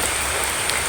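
Heavy rain pours down beside a river in Riau, a dense, steady, loud hiss of drops hitting surfaces close by with no pauses and no voices.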